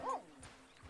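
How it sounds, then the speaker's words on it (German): A disgruntled dog in Red Dead Redemption 2 gives one short, close yip-like bark at the start, then a faint whimper and low grumbles trail off under quiet game ambience. "Und der ist nicht gut gelaunt, der Hund."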